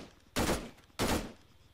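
Two loud bursts of video game gunfire, each about half a second long and spaced roughly half a second apart, rise well above a quiet background.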